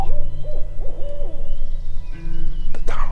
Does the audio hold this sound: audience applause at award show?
no